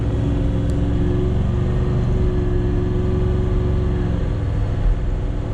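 A Toyota 70 Series with a six-speed automatic conversion pulls a trailer, its engine droning steadily under a bit more throttle in fifth gear, a constant close rumble from inside the cab without speech.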